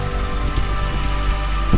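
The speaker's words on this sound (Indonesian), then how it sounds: "hujannya deras banget guys ini" Heavy rain pounds a fishing boat out at sea, a steady dense hiss of drops on the deck and surfaces with a low rumble underneath and a louder splash near the end.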